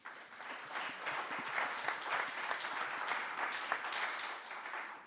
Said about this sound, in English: Round of applause for Bill, please.